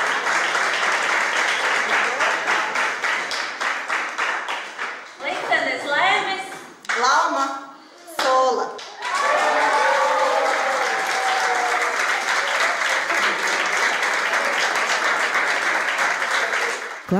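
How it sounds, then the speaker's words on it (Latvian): Audience applause at a prize draw for a new bicycle at a running event, dense clapping from a crowd that is briefly interrupted by a voice speaking mid-way before the ovation resumes strongly. "Klātesošie ar ovācijām sveica Laumu Solu ar vērtīgās balvas iegūšanu"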